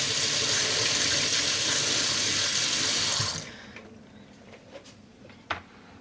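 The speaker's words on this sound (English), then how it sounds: "You need to rinse that a little." Tap water gushes steadily and loudly while dyed yarn is rinsed in a sink, then cuts off abruptly after about three seconds, leaving faint drips and small knocks.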